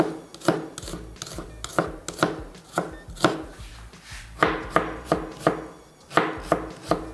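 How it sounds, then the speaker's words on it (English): A knife finely dicing onions on a cutting board makes a steady run of crisp, close chopping taps, about two a second with brief pauses, and no talking. "I'm going for a fine dice on the onions"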